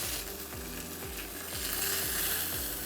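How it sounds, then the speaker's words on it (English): Thin chicken steaks frying skin side down in a pan, an even, close sizzle with a soft repeating pulse underneath and no voices. "Fry this side for 2 minutes. Do not disturb the skin."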